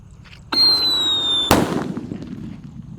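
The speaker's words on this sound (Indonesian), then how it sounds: "Walaupun dinyalakan di dalam tanah tetap menggelegar ya" A Jumbo Whistling Thunder firecracker lit buried in the ground gives a loud whistling shriek lasting about a second, then a sharp deep bang with a rumbling decay.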